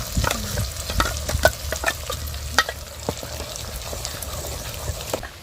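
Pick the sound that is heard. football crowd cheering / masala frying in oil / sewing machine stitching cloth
masala frying in oil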